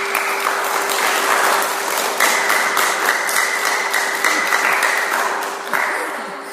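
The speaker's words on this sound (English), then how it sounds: "give yourself a round of applause." An audience at a Buddhist refuge talk breaks into steady, dense applause: many hands clapping together in a continuous patter that holds fairly even throughout, with no speech over it.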